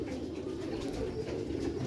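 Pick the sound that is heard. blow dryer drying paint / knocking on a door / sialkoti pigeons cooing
sialkoti pigeons cooing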